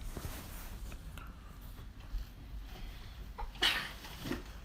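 A single sneeze bursts out near the end of a quiet stretch, followed by a faint breathy sound; otherwise soft background hiss.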